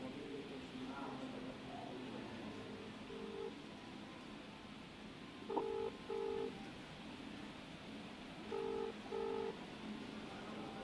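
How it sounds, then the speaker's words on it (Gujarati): A phone on speaker during a call to a government collector's office plays a faint, repeating ringback tone in short paired bursts, spaced a few seconds apart, over a steady background hiss and low murmur. "ફોન હજુ રિંગ વાગી રહી છે"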